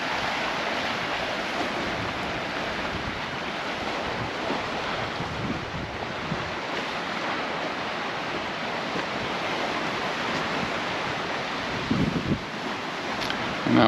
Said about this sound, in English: it just sounds as though the waves are picking up a little bit